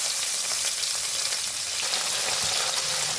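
Tangra fish fry in hot mustard oil in a wok, giving a dense, even crackling sizzle close by that holds steady without pause.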